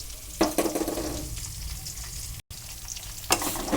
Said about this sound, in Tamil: இதையும் போட்டு நல்லா வதக்கலாம்.